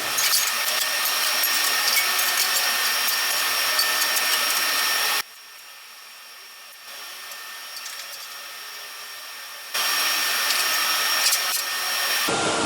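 A furred flap disc sanding wood on an angle grinder hooked up to dust collection, giving a loud steady whir with a vacuum-like roar that drops to a quieter hum midway and then returns at full strength.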